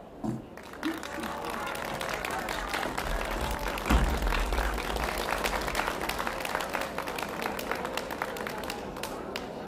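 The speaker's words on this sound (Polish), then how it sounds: "Wielkie brawa, proszę Państwa," A crowd at a seniors' cabaret performance applauds at length, dense clapping that swells and holds steady, with a low murmur and rumble beneath.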